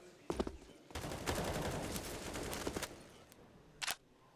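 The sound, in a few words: gunfire spray in Counter-Strike video game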